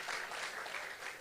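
Congregation applauding at a church service, a steady wash of clapping from many hands sustained throughout without pause.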